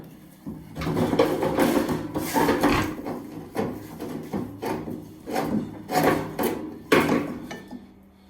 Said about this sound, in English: I'm going to have to pull the stove off of the pallet here a little bit